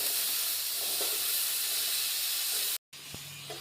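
Papaya curry with cumin and green chillies fries in hot oil, a steady loud sizzle and hiss that cuts off briefly near the end and then returns more quietly.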